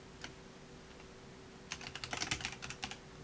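Typing on a computer keyboard, a single keystroke then a quick burst of clattering keys about a second later, close and fairly quiet, with no talking.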